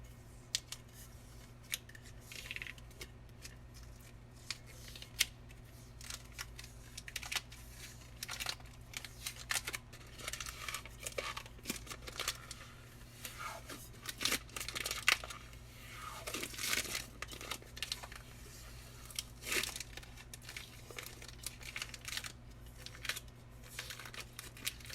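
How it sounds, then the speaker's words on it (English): Vinyl skin wrap is peeled slowly off a Yeti cooler, giving close, quiet, intermittent crackling, crinkling and tearing sounds in irregular bursts over about twenty-five seconds. "And you just peel."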